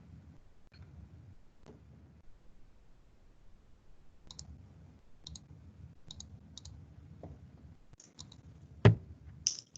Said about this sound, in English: I just typed it up into the chat there